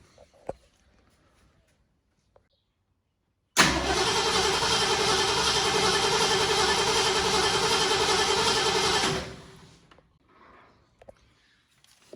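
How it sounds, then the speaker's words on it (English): A 1970 ZC Ford Fairlane engine cranks over with fuel fed from a jerry can, one loud, steady mechanical run of about five seconds that stops abruptly, with quiet shuffling before and after. "So let's crank her over and see if we get some fuel."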